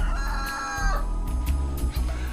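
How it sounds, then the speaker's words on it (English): A rooster crows once, loud and close, its drawn-out call rising then breaking off, with a little background noise. "No, this is a cockerel."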